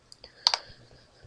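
A couple of quick, light computer mouse clicks close together, faint and close-up, with no talking over them.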